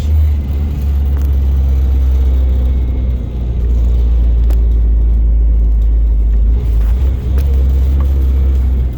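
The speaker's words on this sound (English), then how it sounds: "So you're going to slowly let out of the clutch. It's going to grab, give it gas, then bring yourself off the clutch." A manual-transmission car pulls away as the clutch is let out and gas is applied, giving a loud, steady low engine rumble from inside the cabin with a slight rise in revs and no talking.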